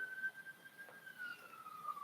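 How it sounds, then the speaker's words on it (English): Ambulance siren heard from a distance, a faint steady tone drifting slowly lower, with no talking. "Is that ambulance for me?"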